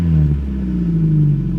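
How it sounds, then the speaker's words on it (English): Four-cylinder engine of an old Toyota truck idling with its exhaust freshly repaired, a steady, loud, close low rumble with a slight rise and fall in pitch and no speech. "Now, I don't love the sound of 4 cylinders"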